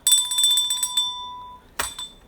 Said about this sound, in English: I'm knocking the bell over in excitement